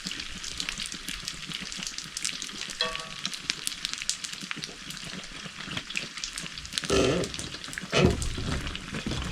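Food frying in oil outdoors beside an off-grid cabin in Vermont, a steady sizzling crackle with a few louder bursts of spatter near the end.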